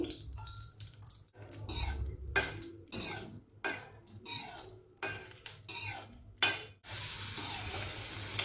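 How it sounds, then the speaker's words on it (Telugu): Cashews and raisins fry in ghee in a thick kadai, with soft sizzling under intermittent stirring and metal spoon scrapes against the pan, close and fairly quiet. "నెయ్యి చక్కగా కరిగిన తర్వాత మీకు నచ్చిన డ్రై ఫ్రూట్స్ని వేసి ఫ్రై చేసుకోండి"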